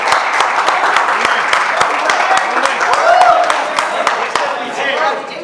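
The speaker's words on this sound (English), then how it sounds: "We can quadruple the round of applause." Applause from a crowd at a trailer launch event, steady clapping with scattered cheers and a murmur of voices throughout, moderately loud and continuous.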